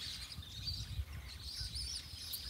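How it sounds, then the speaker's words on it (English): Birds call and chirp at an outback lake, a steady high twittering chorus spread across the whole stretch with a low rumble of wind or handling noise beneath, and no voices. "The birds here are beautiful."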